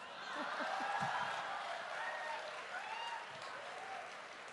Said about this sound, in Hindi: देखिए तालियां भी बज रही हैं।